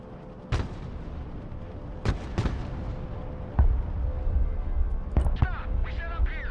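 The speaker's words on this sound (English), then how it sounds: "Artillery at your command" Artillery fires in the Broken Arrow war video game, giving several sharp, loud booms spaced unevenly over a constant low battlefield rumble, with a quick double blast near the end.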